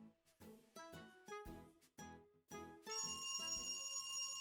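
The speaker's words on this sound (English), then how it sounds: "The ringing echoes down the hallway." Phone ringing in a video game hallway, a series of bright electronic ring bursts with short gaps, echoing and then swelling into a sustained louder tone, with no voices.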